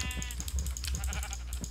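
Sheep in Minecraft bleat several times in quick succession, clear and fairly close, with no voices over them.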